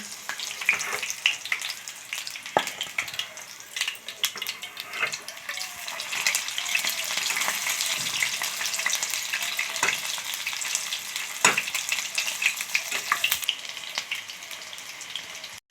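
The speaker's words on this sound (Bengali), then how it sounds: "তেলটা ভালো করে গরম করে নিয়ে গ্যাসের ফ্লেমটাকে মিডিয়াম টু লোয়েতে রাখতে হবে। এবার চিকেনগুলোকে আমি একটা একটা করে উল্টে দেবো।" Chicken pieces for chili chicken fry in hot oil over a medium-low gas flame and are turned one by one, giving a continuous loud crackling sizzle with sharp pops and clicks and no talk.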